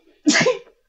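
A single close, sharp human sneeze, loud and brief, with a quick explosive burst and a short tail, heard alone without talk.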